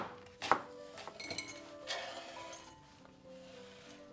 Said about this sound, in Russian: 1 довольно крупную луковицу я нарезаю тонкими полукольцами.